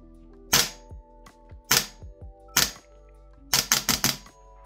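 A Toxicant MWS MCX Spear LT CSAW 10.5-inch gas blowback airsoft rifle fires sharp single cracks followed by a rapid full-auto burst of about four shots, loud and close, with no talking.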